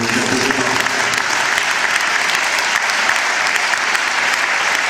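An audience applauds a new team member being introduced, with steady, dense clapping that fills the room and holds at full strength throughout without letting up.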